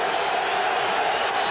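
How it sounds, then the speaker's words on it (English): Football crowd cheering in the Oakland stadium during a 1997 Chargers at Raiders game, a broad steady roar of many distant voices filling the short stretch evenly, loud and continuous with no breaks. "Now that awakens this crowd in Oakland"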